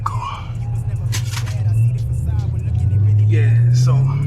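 A 700 hp Camaro 2SS accelerates hard in fourth gear, a deep engine rumble climbing steadily in pitch and loudness from the cabin, with voices talking over it.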